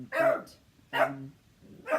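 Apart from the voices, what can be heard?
puppy barking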